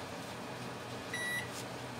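Electronic beeps from a kitchen timer or microwave being set, a short steady tone with a brief overtone series sounding over constant appliance hum, fairly quiet and close by.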